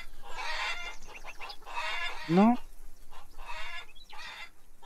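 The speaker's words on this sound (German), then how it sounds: "Und die Hühner." Chickens in the farming game Farmers Dynasty cluck in a few bursts across the clip, with one sharper rising squawk midway, sounding fairly near; someone briefly talks over them.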